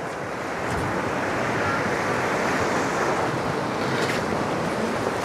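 Wind and crashing sea waves on a beach in Anapa during stormy weather, a steady broadband roar of surf and gusting wind noise, loud and continuous throughout with no voices.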